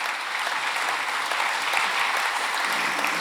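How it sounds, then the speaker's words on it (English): A crowd at a question-and-answer event with a retired general claps in a brief, dense, steady burst of applause that stays loud and unbroken throughout. "Yeah, applause for that."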